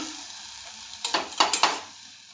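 Ingredients for misal being stir-fried in a pan, a sizzling hiss with a few scraping stirs of a utensil in quick succession partway through, close and fairly quiet, no talking.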